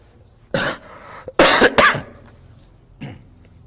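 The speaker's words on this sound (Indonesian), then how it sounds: "Maafkan ya, lagi batuk." Three sharp coughs ring out close by, a pair in quick succession in the middle and a lighter one after a pause, with quiet between them.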